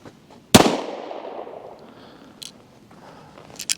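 A Retay Makarov gas pistol fires a single sharp, loud shot up close, its bang decaying slowly, followed by a few faint clicks and handling sounds.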